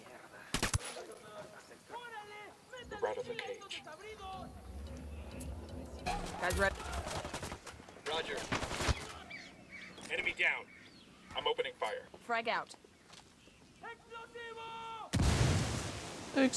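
Gunfire in the video game Ghost Recon Wildlands, with bursts of shots and a loud blast near the end, scattered through in-game radio chatter and voices.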